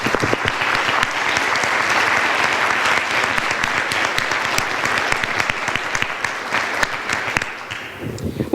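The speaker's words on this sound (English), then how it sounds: "I think we need to applaud Kathy" Audience at a conference business meeting applauding steadily, a dense, close wash of many clapping hands that holds for most of the stretch and tapers slightly near the end.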